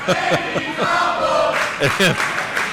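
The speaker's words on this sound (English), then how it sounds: "going and sitting down in the crowd and starting chants" A wrestling crowd chants during a final-match event, voices rising and falling in rhythmic bursts that fill the arena with steady loud cheering.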